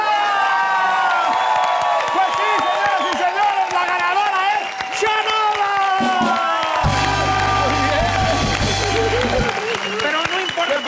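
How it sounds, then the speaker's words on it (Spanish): Television studio audience claps and cheers for guest Shanola Hampton at the close of a late-night comedy singing contest, a long sustained round of applause and whoops mixed with music and voices. "El aplauso para Chenola."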